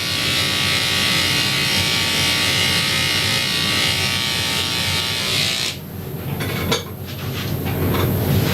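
Electric clippers buzz steadily and loudly while a dog is groomed, the drone cutting out briefly near the end with small clicks and handling noises before resuming.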